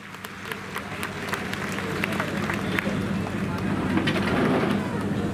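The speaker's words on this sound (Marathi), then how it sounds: "जोरदार टाळ्या झाल्या पाहिजेत." Crowd applause at an outdoor victory rally for four winning municipal councillors, a steady mass of clapping that swells gradually and holds over a low rumble of crowd noise, with voices mixed in.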